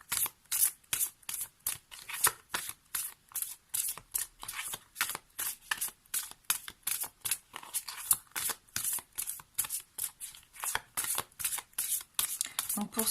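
An oracle deck of cards is shuffled by hand in quick, even riffles and slides, a close, crisp papery rhythm repeating steadily for over ten seconds with no talking.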